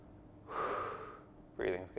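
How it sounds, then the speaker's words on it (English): A person draws one long, deep, audible breath, then a short breathy snort follows, close and fairly quiet. "Breathing's good too."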